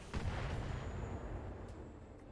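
Artillery barrage in the mech video game RogueTech, a low rumbling blast that swells at once and rolls on as a dull, distant roar, fairly quiet and with no talk.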